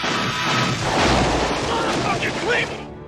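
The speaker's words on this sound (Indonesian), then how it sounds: "setelah bom itu meledak" Bomb explosion in a Vietnam War film, a dense rumbling blast with roaring noise that swells and slowly fades over a few seconds.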